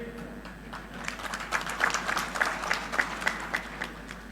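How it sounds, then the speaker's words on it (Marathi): Audience clapping at a Marathi political rally, a steady patter of applause building to a fuller burst in the middle before tapering, moderately distant and crowd-like. "ज्यांच्या आगमनामुळं आपण सर्वांनी खूप जोरदार टाळ्या वाजवल्या"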